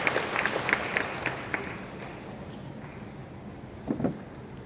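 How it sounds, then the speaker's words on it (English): An audience at the ISKCON Govardhan Ecovillage event claps to welcome Radhanath Swami, a moderate scattered applause that thins out over several seconds, with a brief renewed burst near the end. "Let us together welcome His Holiness Radhanath Swami Maharaj very enthusiastically by clapping"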